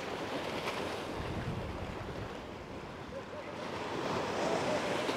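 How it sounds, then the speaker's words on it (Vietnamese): Ocean waves roll in at Doi Duong beach in Phan Thiet, a steady broad wash of surf mixed with wind rumble on the microphone, swelling slightly toward the end. "Và bãi biển thì cực kỳ rộng lớn luôn."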